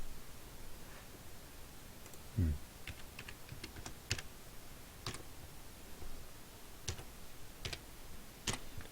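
Keys on a computer keyboard click in sparse, irregular taps, fairly quiet and close, with short pauses between bursts and a brief thump partway through.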